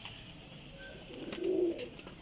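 A parwazi flying pigeon from Jhelum gives a soft, low cooing phrase near the middle, faint against quiet background noise with a few light clicks.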